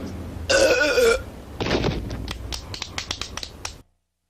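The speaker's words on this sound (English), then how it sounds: "are you burping again?" A loud, drawn-out burp rolls out up close, followed by a second gurgling belch and then a run of sharp clicks and snaps before the sound cuts off.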